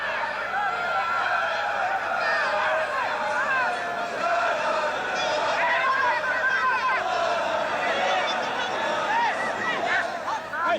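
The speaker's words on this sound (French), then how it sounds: "Vous entendez les supporters marseillais qui sont venus nombreux." Marseille football supporters filling a stadium during a European Champion Clubs' Cup tie against Union Luxembourg, a constant roar of chatter, shouts and laughter, with a commentator talking over the crowd throughout.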